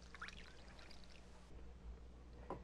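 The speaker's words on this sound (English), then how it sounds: "Pour it in like this." Liquid truth serum poured into a hollow tie container, a soft continuous trickling stream at close range, faint and steady without talk.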